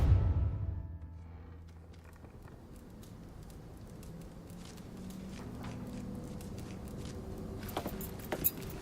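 Truck keys jangling as they are grabbed in the video game Mafia III, a few metallic clinks at the start and end over faint vehicle rumble and ambient noise.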